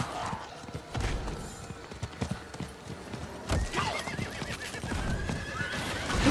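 A horse in the Diablo IV video game neighs and whinnies over steady clip-clop hooves, with a high wavering whinny standing out midway through the gameplay sound.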